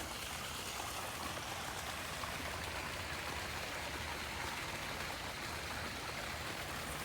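Water from a waterfall pouring into a tiger's pool, a steady, even rushing splash heard from a moderate distance, continuous and unbroken, with no voices.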